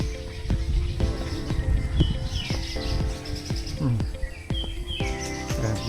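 Birds sing and chirp on a forest farm in Tanay, Rizal, with repeated bright whistled calls and trills over a busy background of insects and rustling, mostly steady and moderately close.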